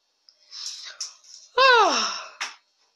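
A dog yawns once, close by, in a drawn-out, wavering whine that rises and then falls. Faint breathy sounds and a short squeak come before and after it.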